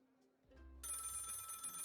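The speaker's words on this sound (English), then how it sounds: "the phone is ringing" An old-style telephone bell starts ringing in the video game Lil Guardsman, a bright, continuous electronic ring that cuts in abruptly after a brief low tone and stays steady to the end.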